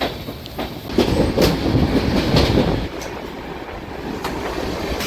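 The Dattapeeta Express runs on rails between Tirupati and Pakala Junction, its wheels clattering in a rhythmic clickety-clack that swells loudly mid-clip before settling into a steadier rumble, with no speech.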